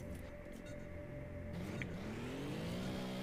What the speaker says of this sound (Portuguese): agora vamos testar aqui essa Porsche 911 GT2 RS